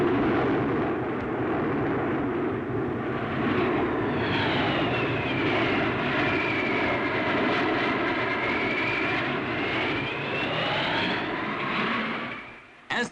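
RAF aerobatic team aircraft roar past at a 1960s air show, a loud sustained jet rush whose pitch sweeps down and back up as the planes pass, alone with no talk.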